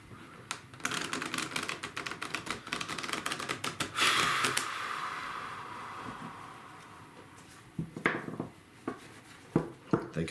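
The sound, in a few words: shuffling tarot cards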